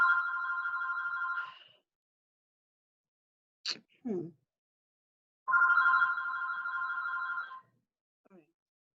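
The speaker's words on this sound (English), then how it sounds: "Is that my phone again?" A telephone rings twice in an indoor room, each burst of trilling bell lasting about two seconds with a pause between, clear and close, with a brief murmur and some short noises in the gap.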